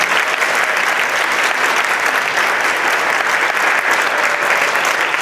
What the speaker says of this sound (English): So, claps to them.